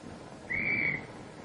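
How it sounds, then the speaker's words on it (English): A single steady whistle blast on a World War 2 aircraft carrier flight deck signals plane handlers to stop while they push and respot a plane, sounding for about half a second over a low background rumble. "That whistle means stop to the plane handlers and the plane captain in the cockpit."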